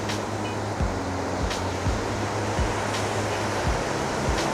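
Ocean surf rolls in off Fitzroy Beach in New Plymouth as a continuous, wind-blown wash, with soft breaking thumps recurring about every second.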